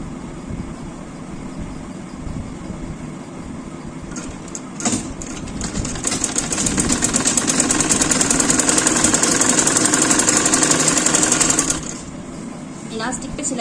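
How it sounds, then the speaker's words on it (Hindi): A sewing machine stitches elastic into a trouser waistband, its close, rapid mechanical whirring starting softly, swelling into a sustained run for several seconds, then easing off, while someone talks throughout. "तो धीरे धीरे हम इसको सिल लेंगे।"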